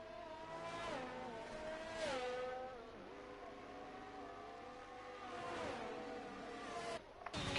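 An AlphaTauri Formula 1 car roars past in a racing video game, engine whine rising and falling through gear shifts, with further revving bursts around it, loud and close, no voices.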